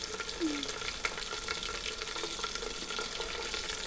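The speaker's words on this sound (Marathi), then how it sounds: "लसूण छान व्यवस्थित लालसर झाला की मग यामध्ये मिरची ॲड करायची आहे आपल्याला." Garlic sizzling and frying in oil in a pan as green chillies go in for a whole black urad dal amti, a steady close crackle with a brief higher squeak near the start, no talk.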